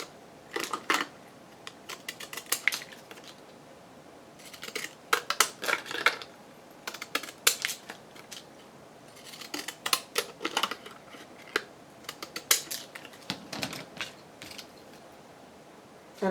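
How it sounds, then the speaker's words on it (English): Deckle-edge scissors cutting a stamp-style paper piece on a cream background, giving bursts of quick crisp snips and paper rustles separated by short pauses, close and fairly quiet with no talking. "I'm going to use my Deckley scissors to cut this out."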